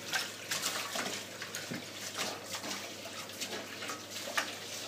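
Running water pours steadily into a kitchen sink with bleach, a soft continuous splashing rush that stays fairly quiet throughout.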